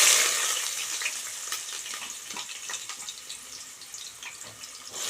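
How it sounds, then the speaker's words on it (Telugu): Onions drop into hot oil, about three spoons' worth, and fry with a steady close sizzle that is loudest at first and then settles into continuous crackling. "చూడండి, ఆయిల్ హీట్ ఎక్కింది. ఇప్పుడు ఆనియన్స్ వేసుకుందాము."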